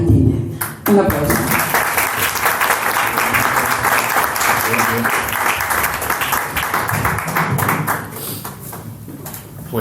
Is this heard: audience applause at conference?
yes